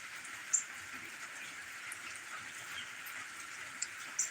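Early morning rain on a farm in Roanoke, Alabama falls as a steady soft hiss, with a few faint sharper drips scattered throughout and no voices.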